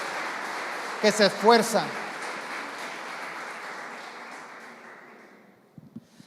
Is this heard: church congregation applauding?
yes